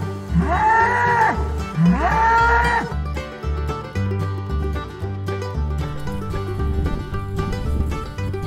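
Cattle moo loudly and close twice, long drawn-out bellows one after the other, with a recorded music track playing underneath and continuing after the calls.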